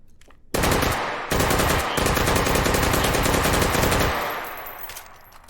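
Armor-piercing gunfire in a video game, a loud, rapid rattling burst that starts abruptly, cuts off briefly, then resumes and runs for about three seconds before fading into a faint ringing tail.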